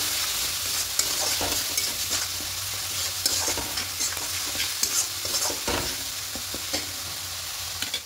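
Spice masala with a splash of water is stir-fried in a pan for a cauliflower, potato and egg curry, a steady close sizzle broken by repeated scraping strokes of a spoon, with no talk.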